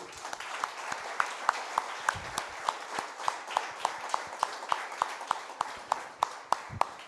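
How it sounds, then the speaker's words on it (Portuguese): Congregation applauding during a church service, a fairly faint room of clapping with distinct sharp claps landing in a loose steady rhythm throughout. "Você pode aplaudir aí ao nosso Senhor?"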